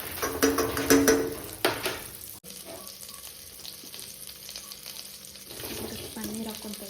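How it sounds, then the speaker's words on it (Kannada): Paneer pieces frying in melted butter in a pan, a steady soft sizzle with louder clattering stirring at the start, then a quieter continuous hiss. "ಪನ್ನೀರನ್ನ ಬಟರಲ್ಲಿ ಫ್ರೈ ಮಾಡಿಕೊಂಡು ಎತ್ತಿಟ್ಕೊಂಬೋಣ"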